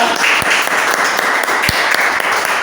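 A school audience of staff, committee members and community claps together in a dense, steady burst of applause that fills the whole stretch at close range, with a few sharper individual claps standing out.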